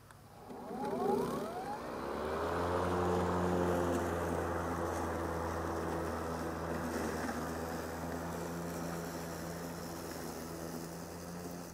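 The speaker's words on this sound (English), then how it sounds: "You'll hear the mower that once he gets into this thicker grass here, the governor will actually speed the motor up" SKIL PWRCORE40 brushless 40-volt 20-inch battery push mower running steadily up close, its motor whine rising briefly at the start before settling into a loud, continuous hum as it cuts grass.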